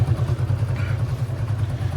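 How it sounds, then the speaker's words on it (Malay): A car engine idling steadily right after its leaking, rotted petrol hose was replaced, giving a low, even, slightly lumpy rumble up close with no talk. "sekarang motor dah hidup"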